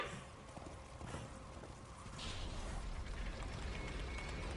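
Horse hooves clip-clopping in the Darksiders video game, a faint rhythmic clatter of steps under a noisy, hissing game background.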